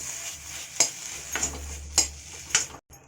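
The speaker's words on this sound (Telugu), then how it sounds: "బుడంకాయలాగా పచ్చివాసన పోయించే వరకు బాగా వేయించండి" Bottle gourd peels being stir-fried in a pan, with a soft continuous sizzle broken by four sharp spatula taps and scrapes at a regular pace, close up and without talk.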